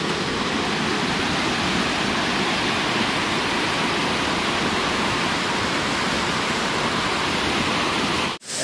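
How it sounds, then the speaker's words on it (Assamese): The Putsari waterfall in West Karbi Anglong, Assam, roars in a loud, steady broadband rush of falling water that fills the whole clip before cutting off abruptly at the end. "এটা ধুনীয়া ৱাটাৰফল"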